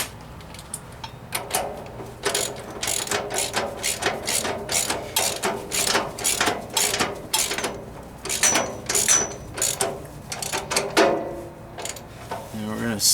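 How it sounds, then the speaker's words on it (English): A ratchet socket wrench with a 3/4 inch socket snugs an axle bolt on an Ingersoll lawn tractor, giving a long run of loud, close clicking strokes in steady back-and-forth rhythm, alone. "Get the right socket size on here. Takes a 3/4 inch wrench and socket."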